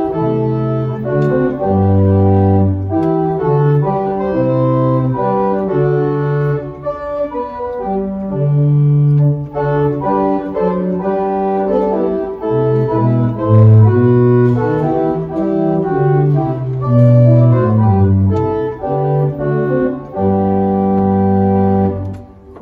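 Two stops sound together on the Willis pipe organ at St John the Evangelist, playing a slow sequence of sustained chords and moving bass notes, full and steady in a resonant church with no voices.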